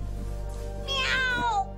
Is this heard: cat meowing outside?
yes